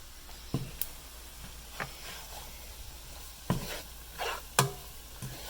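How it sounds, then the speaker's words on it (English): Flour and spice mix gets stirred into onions frying in butter for an old-style chicken curry. A soft sizzle runs throughout, broken by scattered scraping and clacking strokes of the spoon, close and quiet. "add our flour and spice mix and give it a stir"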